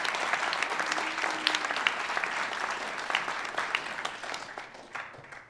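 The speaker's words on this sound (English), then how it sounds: "Let's show our appreciation with a round of applause" Applause at a school honor society ceremony, many people clapping steadily at moderate volume, individual sharp claps standing out, tapering off at the end.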